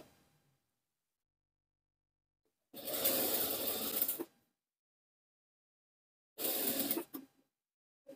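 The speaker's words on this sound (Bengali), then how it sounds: "সিলি করে দিবেন।" Sewing machine stitching a folded sleeve hem on a garment, running in two short bursts of steady mechanical whirring separated by silence, with no talk.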